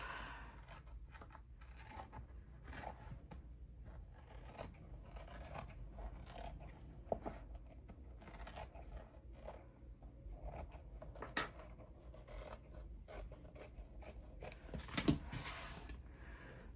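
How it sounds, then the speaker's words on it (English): Scissors cut through paper and muslin for a handmade journal with quiet, close snips and crisp rustles in irregular bursts, ending in a sharper cluster of cuts and no talking. "I'm just going to cut right there. Okay, let's cut this off."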